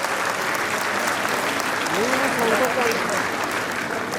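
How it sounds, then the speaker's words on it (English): Audience applause at a prize distribution ceremony for a singles winner from a medical college, a steady dense wash of clapping throughout, with a brief voice rising faintly beneath it. "You need to clap."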